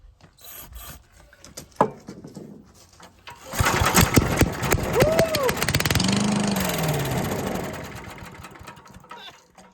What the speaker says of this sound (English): That fired right up. So, that's a good running motor right there.